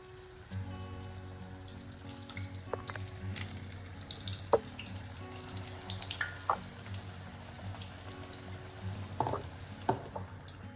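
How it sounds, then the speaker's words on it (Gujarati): Chili bhajiya, battered green chilies, frying in hot oil: a continuous soft sizzle and crackle with scattered sharper pops and spits, fairly quiet and close, with no voices. "તો બીજા બધા ભજીયાને પણ આપણે આ જ રીતે ફ્રાય કરી લઈશું."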